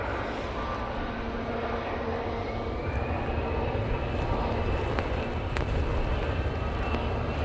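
An EasyJet Airbus A320-200 departs Manchester Airport for Prague in windy weather, a distant steady engine rumble with a faint rising tone, continuous and without talk.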